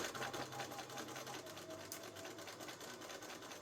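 A sewing machine runs steadily while stitching the collar of a duster coat, a close, continuous mechanical whir with a rapid needle rhythm and no speech.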